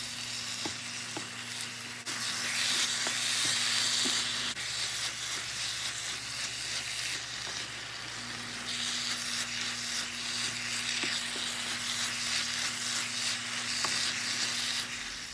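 Minced meat mixture fries in a pan with a steady, close sizzle and crackle, overlaid by frequent stirring scrapes and a constant low hum, and no voices.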